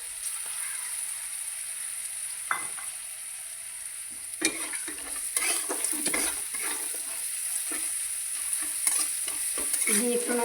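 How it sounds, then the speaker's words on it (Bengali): Grated green peas being stirred and sautéed in a pan, a soft steady sizzle broken by repeated scraping and clinking spatula strokes against the metal, close up and with no talking. "এটাকে একটু ভালো করে কষাতে হবে, কারণ এই যে গ্রেট করা মটরশুঁটি দেওয়া হয়েছে"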